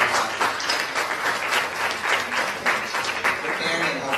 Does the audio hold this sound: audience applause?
yes